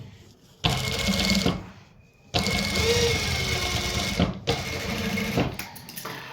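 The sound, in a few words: sewing machine stitching over a fabric joint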